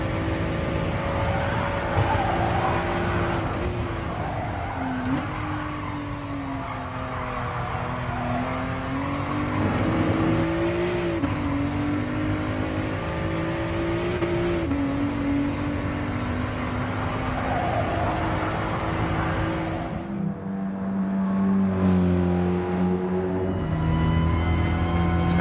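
Race car engine droning steadily in GT Sport, pitch rising and falling through gear changes and corners, a continuous loud whine carrying through a hill climb in an underpowered car, with no voices.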